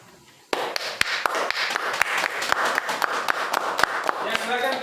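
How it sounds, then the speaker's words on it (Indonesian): An audience in a classroom-style gathering applauds a group's performance, a dense burst of close, loud clapping that starts abruptly and continues steadily to the end, with a few sharper individual claps standing out. "Silakan diberikan aplaus."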